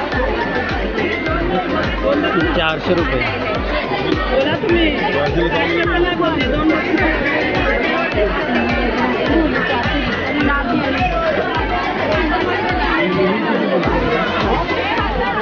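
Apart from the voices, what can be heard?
crowd chatter at busy Malad wholesale fish market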